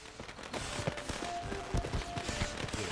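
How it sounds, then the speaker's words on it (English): Fireworks burst in the video game Witcher 3: a rapid fusillade of crackling pops and thuds, fairly faint, repeating irregularly throughout. "Fireworks. That's cool."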